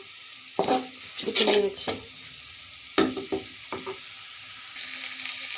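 Half-boiled, hand-shredded chicken frying with vegetables in a pan, with bursts of stirring scrapes and utensil clatter over a soft sizzle, while someone speaks briefly.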